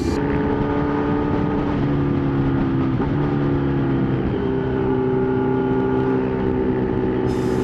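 Several motorbikes ridden on the road toward Aglipay, Quirino, their engines humming steadily and close for the whole stretch, with wind noise over the top and no talking.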